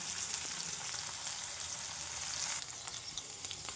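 Drumstick stalks fry in a pan, giving a soft, continuous crackling sizzle with scattered sharp pops, fairly quiet and close, with no talking.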